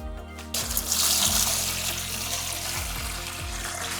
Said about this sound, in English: I'm gonna just start by draining some of the water into this bucket